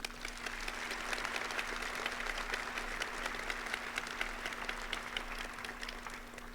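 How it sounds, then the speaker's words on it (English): A high school graduation audience at Cumberland Polytechnic High School claps in sustained, even applause from a moderately distant crowd, with no talk over it. "Please join me in applause to salute these two scholars."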